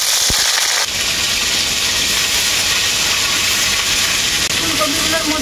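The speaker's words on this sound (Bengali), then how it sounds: "এরপর আমি বেগুনি ফুলকপিগুলো ভেজে নেব।" Purple cauliflower pieces frying in mustard oil, a loud, steady, close sizzling hiss that holds almost unchanged from start to finish.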